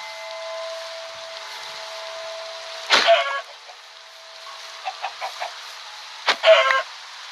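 Chickens clucking in short repeated bursts at close range, with a loud squawk near the start and another near the end, over a steady background hum.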